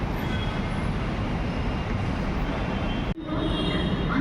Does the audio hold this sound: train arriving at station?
yes